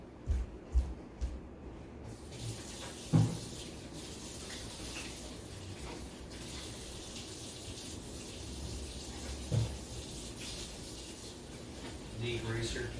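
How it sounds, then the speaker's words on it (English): Greasy hands being washed under a running tap, a steady rush of water with occasional splashes and knocks, fairly quiet, with speech now and then. "let me wash my hands real quick"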